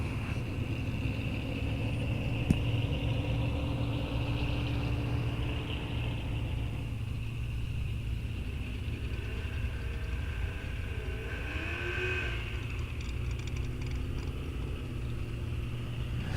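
A race car engine at Rock Falls Raceway drag strip rumbles steadily at a distance, faint and low, with a brief rising whine partway through.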